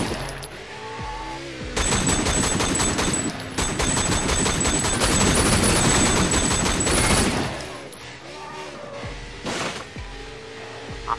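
Dense, sustained automatic gunfire in the open-world action game Sleeping Dogs, loud and continuous for several seconds, with some shouting voices in the mix and quieter game sounds before and after.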